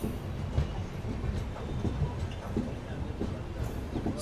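The Andaman Express, running with new LHB coaches, pulls into platform 5 at Tenali Junction with a steady, close rolling rumble of wheels and carriages that holds throughout.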